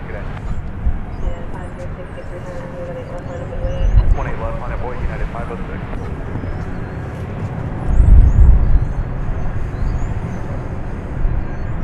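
A Spirit Airbus A320 departs an airport runway, its jet engines rumbling as a distant, swelling roar that builds and rolls on for several seconds over steady background noise.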